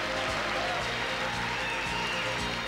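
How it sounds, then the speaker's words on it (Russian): Steady audience applause for a young singer named Ksyusha at a televised children's vocal contest in Moscow, with dense rhythmic clapping throughout. "Первые аплодисменты в адрес Ксюши"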